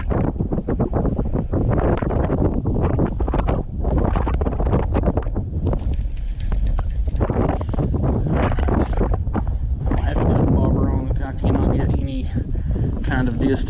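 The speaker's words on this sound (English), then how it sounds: "because of all this stinking wind" Strong wind gusts buffet the microphone outdoors during rainy weather, a loud continuous rumbling roar with surging bursts throughout, and voices talk faintly underneath.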